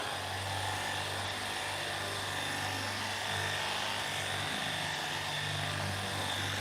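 A polisher spreads compound over the paint of a month-old BMW M2, giving a steady, close electric motor whine with a low hum that holds an even pitch throughout.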